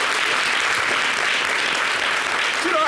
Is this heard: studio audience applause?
yes